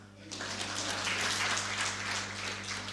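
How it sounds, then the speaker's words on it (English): An audience claps for a woman who answered a question at a talk on business ideas, a sustained, even patter of many hands rising quickly and holding steady over a low electrical hum. "Clap for her."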